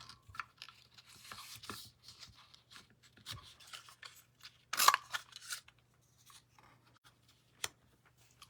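Scissors cutting a paper strip for a handmade card, a quiet series of snips and papery crunches, with one sharp cut standing out midway and a faint click near the end, close and alone.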